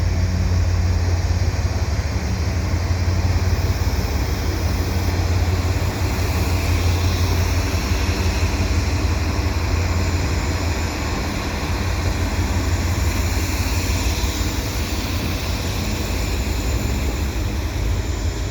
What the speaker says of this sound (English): I've got a westbound train heading over Boulevard St Joseph